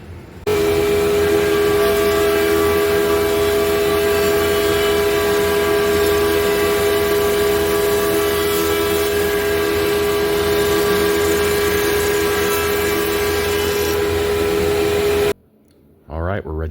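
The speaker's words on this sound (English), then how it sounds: "I'm going to go ahead and run them through the planer maybe just one time on the best face." A thickness planer feeds rough wood boards meant for a rustic butcherblock countertop, giving a loud, steady machine roar with a sustained tonal whine that runs nearly unbroken for about fifteen seconds, then cuts off abruptly into quiet.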